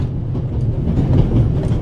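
A train rolling through the Alps in The Raven Remastered, heard as a steady loud low rumble of wheels and freight cars with faint clatter and no speech.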